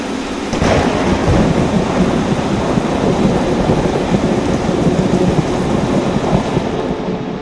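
A Train Sim World thunderstorm rolls on with loud rumbling thunder and heavy, steady rain, starting abruptly and holding a dense, sustained roar throughout, with no voices.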